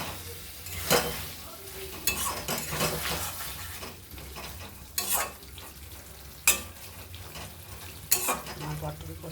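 Potol (pointed gourd) cooking in a pan gives a steady sizzle and bubbling, broken by several sharp scrapes and clanks of a utensil against the pan.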